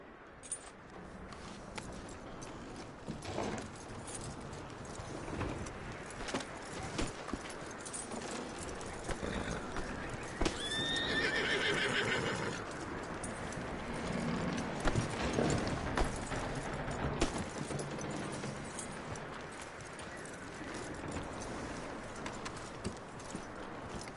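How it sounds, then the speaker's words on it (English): Hooves clip-clop steadily from a horse in the video game Red Dead Redemption 2, a close rhythmic walking pattern running throughout over light ambient background; no clear neigh stands out. "That looks like a decent horse."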